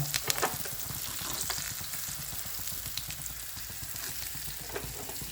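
Pieces of pre-cooked chicken frying in hot oil for a chicken fry: a steady, close sizzle with constant crackling and popping throughout, and no voices.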